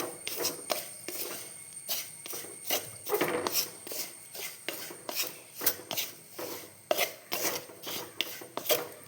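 Rice husk roasting in a pan over medium heat to make charcoal, stirred in rhythmic rasping, scraping strokes repeated steadily and close, with no talk.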